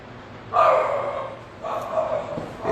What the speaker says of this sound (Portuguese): Esses são os cachorros incomodados com a vida